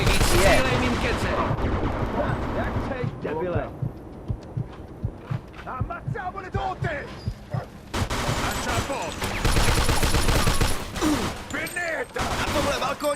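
Bursts of gunfire ring out in the Mafia 2 game, rapid repeated shots in clusters with short pauses, while someone speaks over the shooting.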